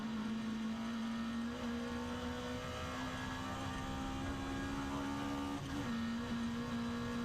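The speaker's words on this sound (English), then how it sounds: "launching the gears there as he approaches the next corner" A saloon car championship race car at Castle Combe circuit, its engine note droning steadily and rising slightly as it accelerates toward a corner, with a brief dip near the end like a gear change.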